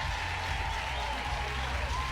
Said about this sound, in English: Nice hand from the crowd for Heavner.